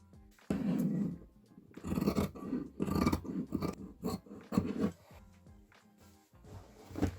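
Scissors snip through fabric patches cut for mending worn pants, a series of close, crisp cuts in an irregular rhythm with short pauses, set against a quiet room.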